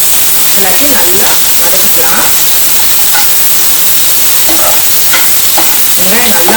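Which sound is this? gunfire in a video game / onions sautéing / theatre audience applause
onions sautéing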